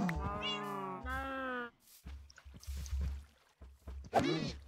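Cat meowing in the video game Minecraft, several short, close, loud meows in quick succession with quieter clicks and thumps between them.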